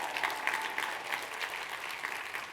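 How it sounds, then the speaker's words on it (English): An audience at a guest speaker's talk gives a short round of applause, soft and somewhat distant, with an even patter of clapping over a couple of seconds. "I should get a round of applause for that"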